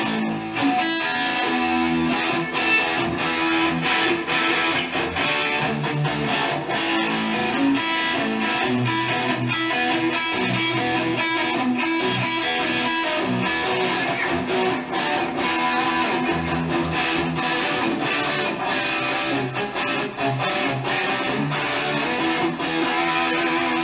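Distorted electric guitar playing a song, a dense, continuous wall of crunchy chords and riffs with steady picking, loud and close throughout with no talking.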